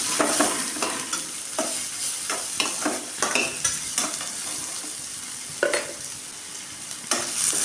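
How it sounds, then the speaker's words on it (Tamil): Onions, green chillies and curry leaves sauté in hot oil, crackling steadily while a spatula scrapes and taps the pan in frequent, irregular strokes up close. "பாருங்கள் எல்லாமே ஆயிலில் நல்லா வதங்கி வரட்டும்"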